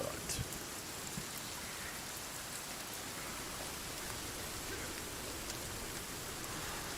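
Steady rain falls in the video game Sons of the Forest, a dense, even hiss of drops on surfaces that holds at a constant level the whole time without a break.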